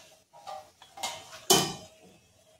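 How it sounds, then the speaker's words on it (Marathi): Metal kitchen clatter as a lid is set on a pot of Kolhapuri-style sabudana khichdi, a few light clinks followed by one sharper, louder clank, close and without speech. "तर आपण आता ह्याच्यावरती झाकण ठेवणार आहोत."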